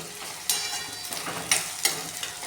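Onions sizzle in a pan with mustard seeds, cumin and green chillies for a mixed-vegetable pulao, a low steady fry broken by three sharp scraping stirs of a spoon against the pan.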